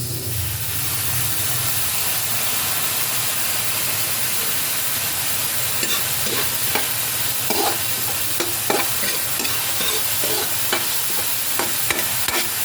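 Ground meat sautés in a pan with carrots and potatoes, a steady close sizzle and hiss joined partway through by repeated clinking and scraping stirs.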